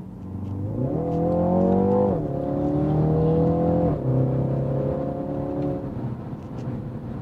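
A 2020 BMW X2 M35i accelerates hard from inside the cabin, engine note climbing through gears with two clear upshift drops, then settling into a steady cruise hum, loud and close without talk.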